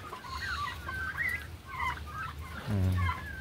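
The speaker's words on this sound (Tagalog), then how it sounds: "Kinakain po ng ating mga pabo." Turkeys cluck and chatter softly nearby while eating silage, ending in a deeper gobbling call, against steady outdoor background noise.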